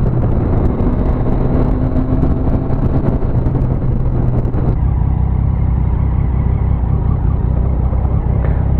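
A motorcycle cruises along a road at a steady speed of about 80, its engine a constant, loud rumble mixed with wind and road noise, with a shift to a lower, smoother drone partway through.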